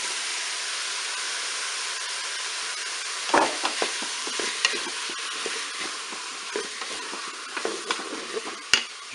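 Minced steaks, tomatoes and courgettes cooking in a Cookeo pot, a steady sizzling hiss with scattered stirring clicks and scrapes that start a few seconds in.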